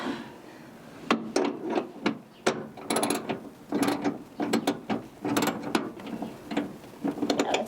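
Hardware on a Diamondback Switchback tonneau cover on a Tacoma gets tightened with a ratchet, giving a close, uneven run of rapid clicking bursts and short pauses.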